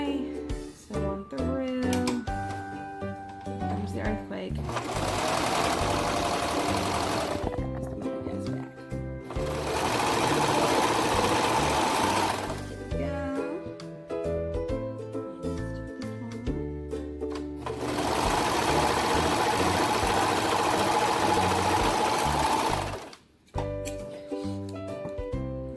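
A sewing machine stitches a fabric tube for pigtail bows in three long, loud runs of rapid needle clatter, separated by short pauses of quieter handling.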